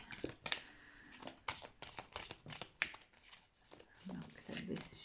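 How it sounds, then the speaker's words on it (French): Tarot cards being shuffled and drawn, producing a run of crisp flicking and slapping card sounds in irregular bursts, with faint low murmuring underneath. "Je vais tirer une autre carte ici."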